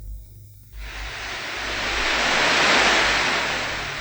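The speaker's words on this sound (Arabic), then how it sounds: "حاجة زي مثلا موج البحر مثلا" Sea waves surging as a sound effect, a loud broadband wash that rises after a quiet start, swells to a peak near the middle and holds steady to the end, with no voices.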